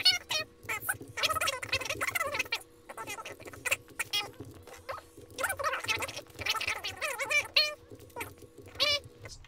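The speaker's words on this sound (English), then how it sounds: "Chickens in terrible living conditions." Chickens clucking in a crowded, cramped pen in a video game, a busy overlapping chatter of rapid clucks and squawks running continuously over a low steady hum.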